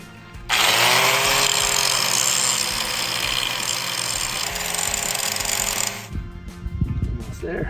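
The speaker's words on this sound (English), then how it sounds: "Now that one I gotta grind that whole corner off." An angle grinder cuts a corner off a steel deck panel, a loud close continuous metallic scream lasting about five seconds before stopping abruptly, followed by quieter workshop handling noise.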